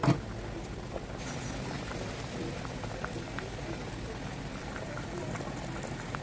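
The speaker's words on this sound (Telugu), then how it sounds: "బాగా హై ఫ్లేమ్లో పెట్టుకుని రెండు నిమిషాలు బాగా ఉడికించుకోండి" Okra tamarind stew bubbles hard in a pot on high flame, a steady close simmering crackle with scattered small pops and no talking.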